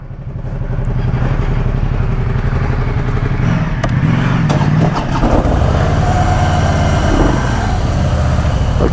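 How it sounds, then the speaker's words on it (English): A group of motorcycles including a Harley Davidson Fat Boy rolls out, their engines rumbling loudly and steadily up close, with revving swells and some clatter. "Motorcycles can roll out now."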